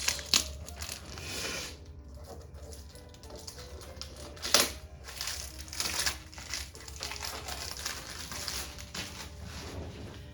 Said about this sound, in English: Let's get the shrink wrap off